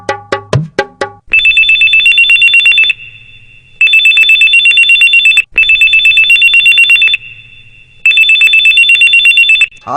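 A telephone rings loudly in repeated bursts, each a steady electronic trill lasting over a second with short pauses between, following a few brief clicks at the start.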